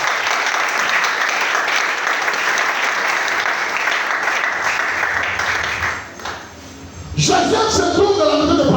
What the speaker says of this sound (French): Est-ce que tu ne peux pas acclamer encore le Seigneur?